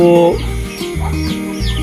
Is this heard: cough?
no